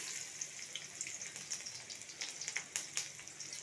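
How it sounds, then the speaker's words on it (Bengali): Chopped onions with green chilli fry in hot oil over bay leaf, dried chilli and five-spice tempering, giving a steady, quiet hiss broken by small crackles and pops, with no one talking. "পেঁয়াজটাকে আমি লাল লাল করে ভেজে নেব"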